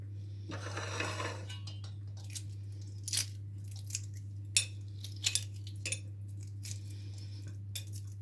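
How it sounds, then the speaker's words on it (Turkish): Boiled eggs, cooled in cold water, having their shells peeled by hand in a home kitchen: close, sparse crackles and crunches with small clinks against a dish, over a steady low hum. "Yumurtalarımı soğuk suya koydum ve artık şimdi kabuklarını soyuyoruz."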